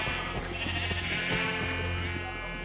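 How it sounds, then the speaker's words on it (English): Sheep in a video game bleat repeatedly, a dense, loud chorus of overlapping bleats layered over game music with no talk. "A whole lot of sheep."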